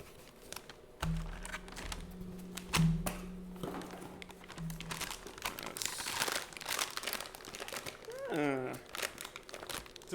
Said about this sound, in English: It's foil wrapped. This is the Filamentum filament.